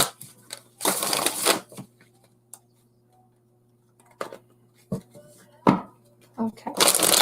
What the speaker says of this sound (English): Let me shuffle my cards real good.